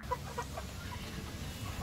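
Four-month-old pet chickens on a backyard farm give soft, scattered clucks at a moderate distance, short notes repeating over a low steady background with no talk.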